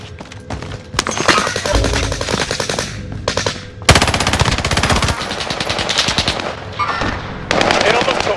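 Small-caliber gunfire in Call of Duty: Modern Warfare, loud rapid automatic bursts and single shots cracking in separated volleys with short gaps, a voice briefly heard between the firing.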